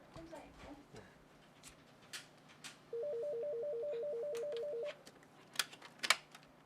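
A telephone rings at a disability discrimination counseling hotline office, one electronic warbling ring lasting about two seconds in a quiet room, surrounded by faint clicks and handling sounds.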